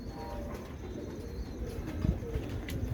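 Heera Laal pigeons, a Salara-type fancy breed, coo softly in a few low, murmuring phrases against a steady background hum, with no talk over them.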